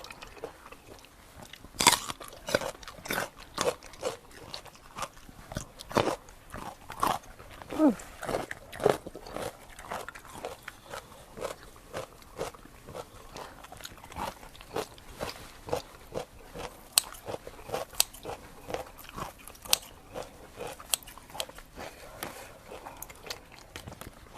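Crunchy biting and chewing of grilled squid dipped in spicy seafood sauce, close and steady with repeated crisp bites throughout, with no talk over it.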